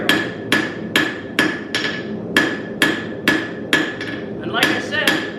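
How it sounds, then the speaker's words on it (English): A blacksmith forges metal held in tongs, making an S-hook for a chicken coop. About eleven loud, evenly spaced hammer blows ring out on the anvil at a steady rhythm, each strike sharp with a short metallic ring. "I'm trying to concentrate my hammer in the same spot, and then I'm moving the material."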